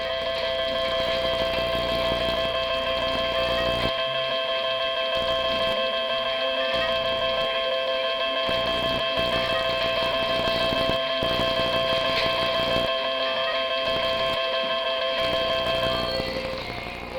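A slot machine rings up credits with a steady electronic tone and a continuous mechanical whirring chatter, running loud and unbroken for the whole stretch with no voices.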